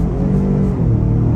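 A 2023 Ford Expedition Timberline full-size SUV accelerates hard while turning, its engine giving a steady, loud low rumble with a rising whir, heard close and without any talk over it.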